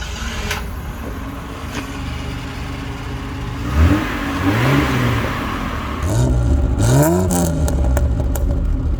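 A classic British car's engine idles roughly, then revs up in several rising and falling bursts, close and loud, with a mechanical clatter underneath.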